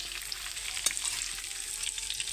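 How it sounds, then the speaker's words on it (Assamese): Cauliflower florets fry in a little oil, giving a steady close crackling sizzle with fine spitting pops throughout and one sharper snap partway through, no voices. "মই ফুলকবিখিনি ভাজি লওঁ অলপ তেলত"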